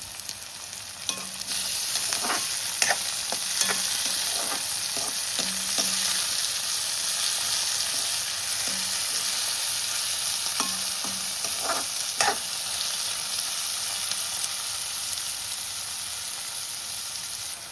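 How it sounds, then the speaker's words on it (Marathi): Onion and tomato fry in a pan, with a constant bright sizzle under scattered scraping taps from a spoon stirring them, close and continuous with no talk. "कांदो आणि टोमॅटो मस्तपैकी भाजलो असा."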